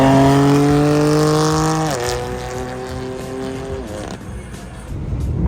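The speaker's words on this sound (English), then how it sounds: "This guy's exhaust sounds super good" A car's loud exhaust note passing by at a car show, a strong droning tone that drops in pitch sharply twice as it goes past, then fades into ambient outdoor noise.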